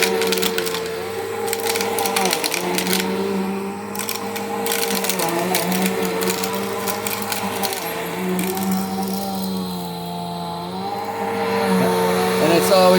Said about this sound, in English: The motor's not very loud. And what you mostly hear is that agitation.